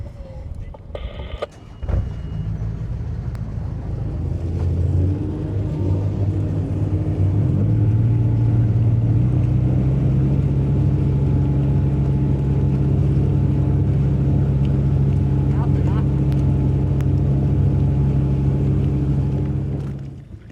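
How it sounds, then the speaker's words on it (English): Boat motor on the Intracoastal Waterway starting up with a short clatter, then settling into a low, steady engine rumble that runs close and loud for the rest of the clip. "I fire up the motor."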